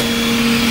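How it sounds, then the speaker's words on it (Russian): Hercules G2 3D printer moving its head to the cleaning position, a steady loud motor whine with a constant pitched hum, close by and lasting under a second. "принтер едет чиститься"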